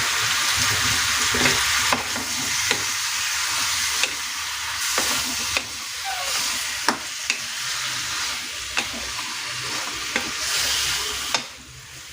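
Pork pieces for kaldereta fry in a pan with a loud, steady sizzle, close up, as a utensil stirs them, its scrapes and clacks knocking against the pan every second or so, with no one talking.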